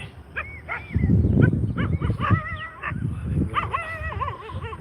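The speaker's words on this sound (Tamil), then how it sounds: "நாய்கள்" Several dogs bark, yip and whimper close by in a roadside pumpkin field, overlapping calls in irregular bursts throughout, loud and clear.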